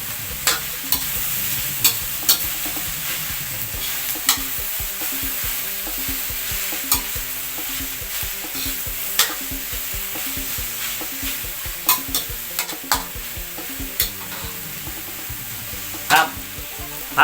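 Mixed vegetables stir-fried in a pan, with a steady close sizzle and repeated sharp scrapes and clacks of a utensil against the pan at an irregular pace, with no talking.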